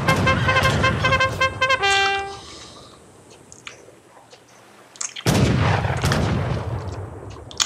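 Booming artillery and gunfire from the video game Age of Empires 3: The War Chiefs, set at the Battle of Little Bighorn. Tonal horn-like blasts open the clip, a quieter stretch follows, then loud dense bursts resume near the end, with no talk.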